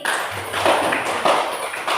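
A classroom of students claps for a classmate, with a few loose bursts of hand claps and taps at close range that come in uneven waves rather than a continuous roar.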